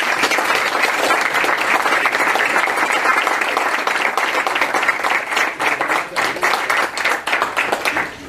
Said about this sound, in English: So I just thought we would take a moment and give them a round of applause.